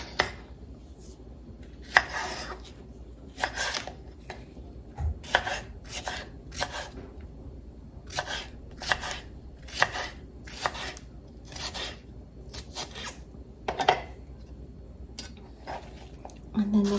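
Crisp knife chops through a homegrown backyard cucumber on a cutting board, irregular bursts of quick close cuts with pauses between, while a person talks quietly at times.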